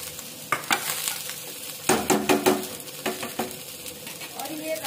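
A spoonful of ghee sizzles in a pressure cooker as vegetables for veg biryani fry, with a spoon stirring and scraping against the metal in repeated close clanks over a steady hiss.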